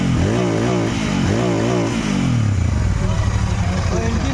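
A used motorcycle engine runs loud and close at a dealer's lot, rising in two quick revs before settling into a steady, throbbing idle.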